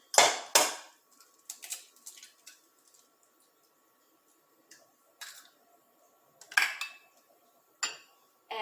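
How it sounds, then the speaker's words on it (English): Two eggs are cracked into a mixing bowl for a tart filling, giving sharp clicks and taps on the bowl in scattered bursts, some quick and close together, with quiet pauses in between. "you're going to crack both eggs into a mixing bowl"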